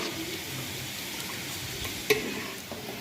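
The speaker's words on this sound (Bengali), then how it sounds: "এই যে গোবিন্দভোগ চালটা আর মুগ ডালটা আবার একটু নাড়িয়ে নিই ভালো করে।" Gobindobhog rice and mung dal being stirred in a pan on the stove, a soft continuous scraping and sizzle close by, with one sharp knock of the spoon against the pan near the end.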